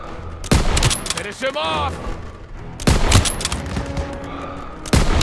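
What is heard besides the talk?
gunfire in a World War 2 video game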